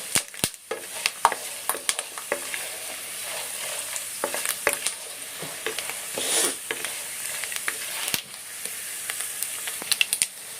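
Leftover idli pieces frying in a pan of oil, a soft steady sizzle punctuated by sharp pops and occasional stirring scrapes, close and moderate in level.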